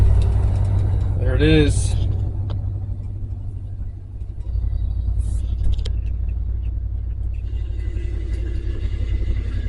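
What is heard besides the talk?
cold start of a 1974 Ford F-350 with a 390 engine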